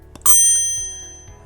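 A single bright notification bell chime rings out clearly, then its metallic tone slowly decays over about a second with no voices present.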